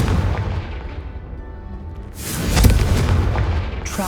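Confringo spell from Hogwarts Legacy going off as a deep booming blast with a rumbling roar, followed by a second bright, crackling explosive burst, loud and close.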